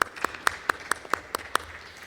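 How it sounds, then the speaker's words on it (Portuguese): Applause during a plenary session of the Chamber of Deputies, heard as a steady run of about eight crisp, evenly timed claps, fairly close and dominating the room. "fica aí a nossa salva de palmas"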